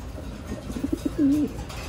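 Breeder pigeons give a short burst of soft, low cooing as a male chases a female, with a few quick coo notes ending in one longer drawn-out coo, close by over faint background noise.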